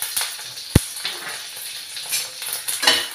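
Green chillies, garlic cloves and cumin seeds crackling in hot oil in a pan, a soft close sizzle with one sharp knock of a utensil against the pan.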